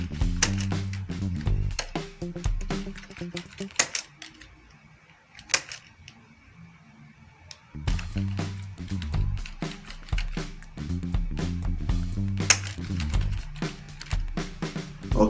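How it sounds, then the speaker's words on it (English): Keys clatter in quick, uneven bursts as an address is typed on a computer keyboard, the clicks close and crisp, with one quieter pause midway before the rapid tapping resumes. "Let me quickly type that out."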